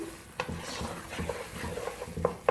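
Sweet chana dal halwa roasts in a pan as a spoon stirs it continuously, giving soft frying hiss under irregular scrapes and a few sharp metallic clinks near the end, close and fairly quiet, with no talking.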